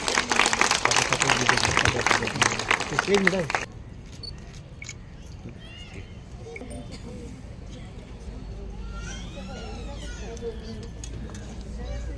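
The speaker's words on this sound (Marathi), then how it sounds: "सगळ्यांनी टाळ्या वाजवा." An audience claps at an honoring ceremony for women and girls, with dense, loud applause for about four seconds that then stops abruptly. A crowd murmurs faintly and voices speak afterward.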